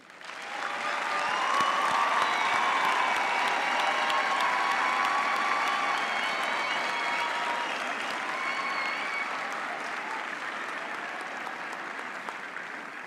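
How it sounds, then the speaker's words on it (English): A large audience applauds graduates at a university autumn graduation ceremony, sustained dense clapping filling a hall for over ten seconds, slowly thinning toward the end. "Let us give thanks to our graduates for the perseverance with a big hand of applause."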